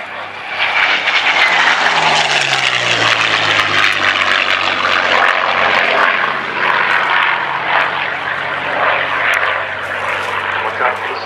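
A Curtiss P-40 Kittyhawk propeller fighter flies past at an air show at Cosford, its piston engine a loud, sustained roar with a falling drone as it passes, and a commentator speaks over it.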